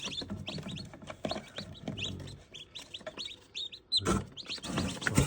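Young chicks raised at home peep continuously in rapid, high, overlapping chirps, close by, with a few louder bursts and some soft rustling. No one speaks.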